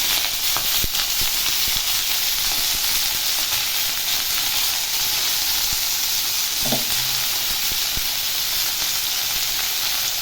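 Garlic, green chillies and mint frying in hot oil, a continuous close sizzle with a few soft stirring knocks, steady and unbroken throughout.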